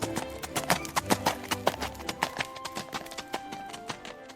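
A recorded horse sound effect plays from a phone search result, a steady run of hoof clip-clops with a faint whinny, fairly quiet and close.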